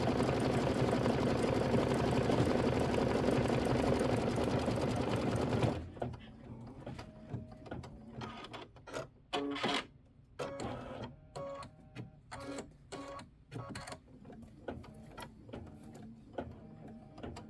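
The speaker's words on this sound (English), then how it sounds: "And this is 6 minutes of stitching, so just let it go." A Kimberbell embroidery sewing machine stitches out a design in loud steady machine noise, with rapid repetitive stitching running continuously at first, then coming in stop-start bursts separated by short pauses.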